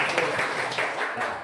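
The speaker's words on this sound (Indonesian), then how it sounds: "Tepuk tangan." Hands clapping together in a classroom, a brief patter of applause from a small group, steady and moderately close for a second and a half with no talk over it.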